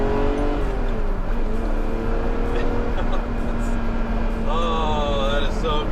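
A Ferrari Testarossa's 12-cylinder engine with factory exhaust gives a loud, continuous drone with rising harmonics, accelerating steadily, muffled but powerful, with no talking.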